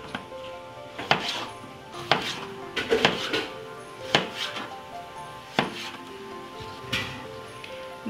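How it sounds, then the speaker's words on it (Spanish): Bell pepper being chopped into squares on a cutting board, a steady series of crisp knife taps at close range in a home kitchen, with no talking. "El chile morrón lo vamos a picar en cuadros"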